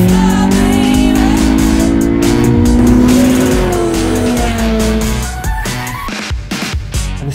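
A race car drives hard with loud, sustained engine drone and squealing tires, revs rising and falling, ending in a rougher burst of engine and tire noise, with no voices.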